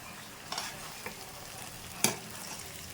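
Country chicken pieces frying in a pan and being mixed, a quiet steady sizzle broken by a few distinct scraping stirs, the loudest near the end, with no voices.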